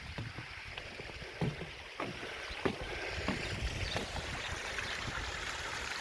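Water from a garden biological filter waterfall pours steadily with a constant, fairly loud rushing wash. Occasional faint knocks sound beneath it.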